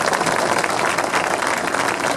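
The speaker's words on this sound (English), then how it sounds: "Let's give them another round of applause." Crowd of attendees applauding workers at the Wilshire Grand concrete pour ceremony in Los Angeles, a dense, steady wash of clapping throughout with no clear gaps.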